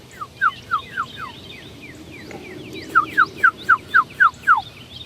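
Clear, repeated bird chirps, a run of short downward whistles, pauses, then resumes with a steady series of seven or eight, over low background rumble.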